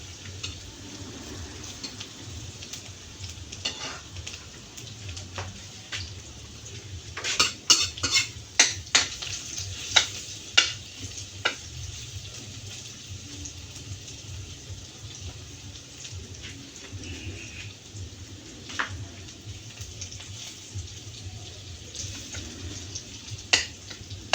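Garlic fries in a pan for chop suey with egg, giving a steady rain-like crackling sizzle with a cluster of sharp utensil clinks against the pan partway through.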